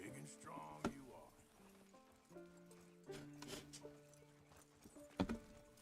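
Video game horse hooves clip-clop in short bursts against a backdrop of game music, with a few sharper thumps standing out.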